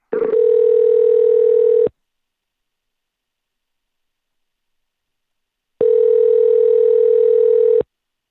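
A telephone ringback tone sounds while calling someone: two steady, even tones about two seconds long, separated by roughly four seconds of silence, heard alone and clear.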